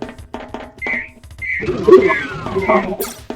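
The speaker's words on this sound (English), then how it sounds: "with that higher pitched beep, that's usually an enemy" A video game accessibility mod sounds a high-pitched targeter beep, short tonal chirps repeating over speech and game sounds.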